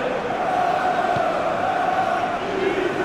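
Stadium crowd in an EA FC football video game during a Lille versus Real Madrid Champions League match, a steady broad roar of spectators that swells slightly and holds at an even level throughout.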